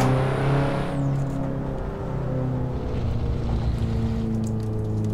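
A car cruises at about 60 km/h in fourth gear during a driving lesson, its engine giving a steady, close droning hum inside the cabin, with rushing wind noise throughout.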